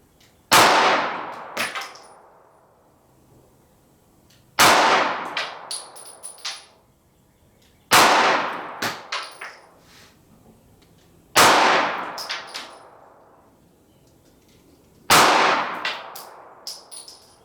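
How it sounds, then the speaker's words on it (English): Five 9mm +P 124-grain Hornady Critical Duty rounds are fired into bare ballistic gel from ten feet, each a sharp loud crack with a ringing tail, spaced a few seconds apart. "we're going to start out first with 5 shots from 10 feet into bare gel"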